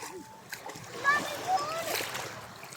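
Children splash and bathe in water beside a wooden bangka, bursts of splashing rising and falling near the listener, with children's voices and other talk mixed in.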